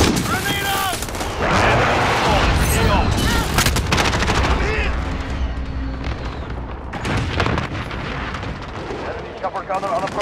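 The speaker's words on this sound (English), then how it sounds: "Grenade out!" Video game battle with a grenade explosion and gunfire: dense, loud continuous bursts of rapid shots and booming blasts filling the whole stretch, with shouted voices and radio-style callouts mixed in.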